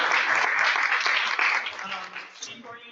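A round of applause rises from the audience at a Black History Month celebration in Cottage City and Colmar Manor, steady clapping that fades out over the last second while a voice speaks over it.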